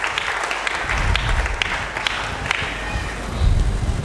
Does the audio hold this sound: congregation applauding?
yes